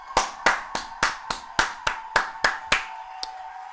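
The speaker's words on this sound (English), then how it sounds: "Let me get my motherfucking claps out here." Eleven sharp, evenly spaced hand claps from one person in a quiet room, close and distinct, the final clap softer, with no talk over them.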